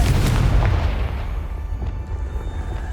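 A heavy blasting-spell explosion from the Hogwarts Legacy video game booms loudly up front, then rolls off into a long rumbling decay.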